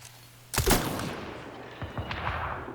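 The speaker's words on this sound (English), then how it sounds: "That's the grenade launcher." In Mass Effect Andromeda, a grenade launcher fires once with a sharp, loud blast that decays into a rumbling tail, followed by a few fainter thuds and impacts.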